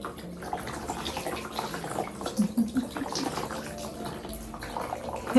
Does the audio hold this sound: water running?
yes